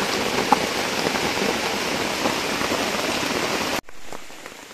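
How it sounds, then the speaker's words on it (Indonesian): Heavy rain pours steadily onto the ground and foliage under a durian tree, a dense, loud hiss that stops abruptly near the end, leaving only faint background noise. "dan kondisi sekarang sedang hujan"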